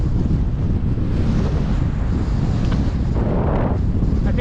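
Strong headwind roars across a touring cyclist's microphone on a highway near Joyce, heading toward Olympic National Park, a loud continuous buffeting rumble that runs unbroken throughout.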